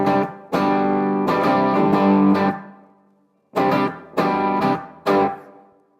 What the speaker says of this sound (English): Standard plate reverb.